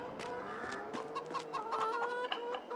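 Video game chickens in Farming Simulator 22 cluck repeatedly in short, uneven bursts, fairly close and steady, with no talking over them.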